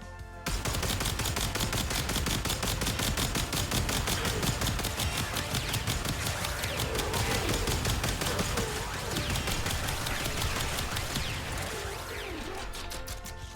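The Kuva Grattler, a heavy rapid-fire cannon in the game Warframe, fires continuously in a dense, loud stream of booming shots with explosive impacts, sustained almost without pause across the whole stretch.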